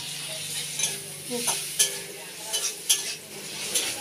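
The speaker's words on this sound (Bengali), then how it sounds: "মোচা দিয়ে চিংড়ি মাছ রান্না হচ্ছে" Steady sizzle of shrimp frying with banana flower in a pan, close and moderate, broken by several sharp scrapes and clinks of a spatula stirring against the metal.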